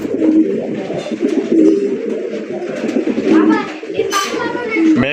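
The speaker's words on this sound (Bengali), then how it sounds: "হলুদ কালার ইন্ডিয়ান বোম্বাই কবুতর জুটি দেখছেন পুরো একদম রাজা রাজা।" Yellow Indian Bombay pigeons coo on a pigeon farm in a steady, close, repeated murmur, with a few sharper calls and a brief flutter near the end.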